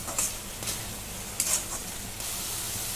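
Shev bhaji masala sautéing in a pan gives a steady broadband sizzle, with a few soft stirring scrapes rising briefly above it.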